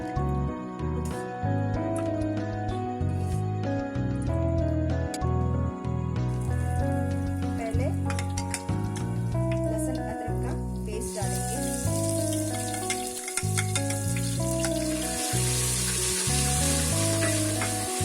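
Oil sizzles steadily in a clay handi over a gas flame, the hiss swelling louder in the second half, set beneath continuous background music.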